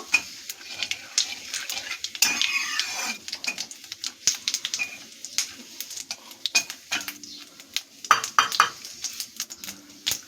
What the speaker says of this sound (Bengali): জিরেটা একটু ভেজে নেব।